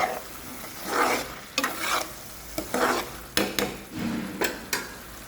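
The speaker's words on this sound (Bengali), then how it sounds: "এটাকে দু মিনিটের মতন আমি সাঁতলে নেবো আলুটাকে মশলার সাথে" Potatoes sautéing with spices in a karahi for Bengali aloo dum with green peas, heard as close stirring and scraping bursts over a steady sizzle, with several sharp clacks of a spoon against the pan.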